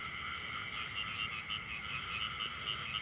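Frogs croak at night in a rice field during frog catching, a faint, continuous chorus of pulsing calls mixed with a high insect-like trill and no talking.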